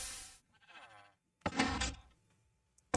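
A goat in the Minecraft Skyblock video game lets out a couple of short, wavering bleats, separated by a brief gap, with a soft thump near the end.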